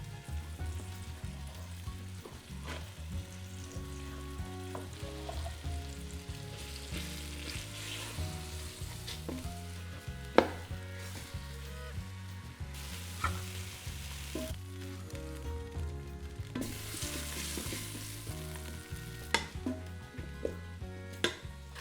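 Beef pieces, a cheap cut, sear in a hot pan with a steady, close sizzle and crackle alongside clinks of a utensil, while music plays underneath throughout.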